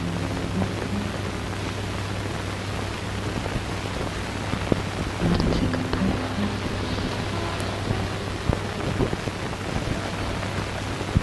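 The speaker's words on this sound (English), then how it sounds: "there's rain" Rain falling steadily with a broad continuous patter, a low hum underneath and occasional faint knocks, moderately loud and without voices.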